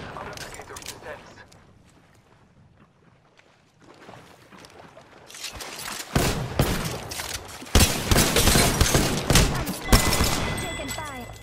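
Video game shootout gunfire with P2020 and Mozambique guns. After a quiet stretch with faint talk, it breaks into dense bursts of rapid shots and booms, loud and close, with players talking over the firing.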